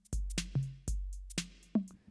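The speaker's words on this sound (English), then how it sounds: "the copy of this snare signal is being delayed before it goes into this reverb unit" Snare drum hits in Ableton sent through a reverb with about 60 ms pre-delay, five sharp cracks in an uneven pattern, each followed by a short ringing reverb tail, alone with no talking.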